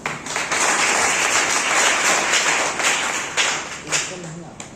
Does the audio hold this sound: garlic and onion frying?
no